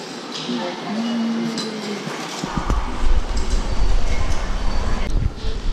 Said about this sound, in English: Shinkansen, the bullet train to Hiroshima